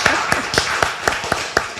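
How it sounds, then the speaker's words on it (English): An audience at a poetry event clapping for the Quartermains, a brief run of evenly spaced, fairly close handclaps with no cheering voices evident. "Could we have a rousing cheer for the Quartermains?"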